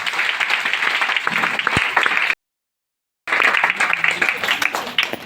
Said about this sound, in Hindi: एकदम एक जोरदार ताली आप सभी देंगे।